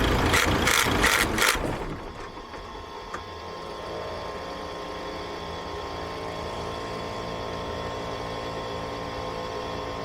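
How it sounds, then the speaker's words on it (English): A truck engine, first run in four months, idles steadily at close range, a low droning rumble with faint rattling, after a few sharp clattering bursts at the start. "this is the first time the truck's run in 4 months now."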